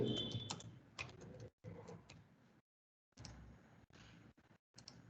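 Close, quiet tapping of a computer keyboard during BIM modelling work, bursts of keystrokes broken by short silent pauses, no talking.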